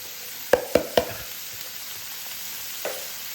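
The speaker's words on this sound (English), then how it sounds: "we're gonna add our Brussels sprouts." Blanched Brussels sprouts drop into a hot glazed pan: three quick, sharp impacts in a row, each followed by a brief sizzle, then another fainter hit near the end over a low background hiss.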